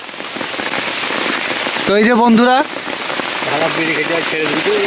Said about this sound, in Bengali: বৃষ্টি আর ছাড়ছে না।